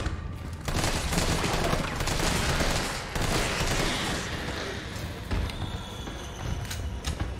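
Gunfire in Resident Evil 3 plays as a dense, loud stream of rapid shots for several seconds, close and nearly continuous, with mechanical clicks and a few heavier bursts near the end.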